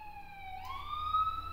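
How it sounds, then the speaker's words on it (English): A faint ambulance siren wails in the distance, its tone sliding upward midway and holding, over a quiet low background hum. "listen, there's a siren."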